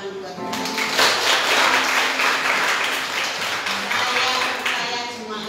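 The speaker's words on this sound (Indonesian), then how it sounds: "Boleh tepuk tangan buat Tuhan." A church congregation at a Sunday worship service claps for God, a swelling burst of many hands that rises quickly and holds, with a voice and sustained keyboard tones underneath.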